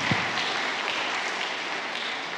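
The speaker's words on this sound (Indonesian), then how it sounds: "Tepuk tangan untuk kita semuanya." Audience applause at a parade, a steady wash of clapping heard alone from start to finish at moderate distance.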